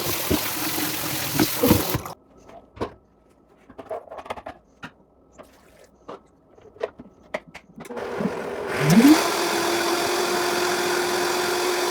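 A blender whirs through canned beans and water in two bursts, one short at the start and a longer steady drone at the end, with quiet kitchen clatter between them, close and fairly loud.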